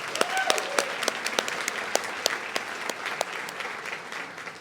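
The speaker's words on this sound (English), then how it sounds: "Let's give them a round of applause too." A crowd at an LGBTQ advocacy brunch gives a lively round of applause, with many sharp, overlapping claps that stay fairly even and fade slightly toward the end.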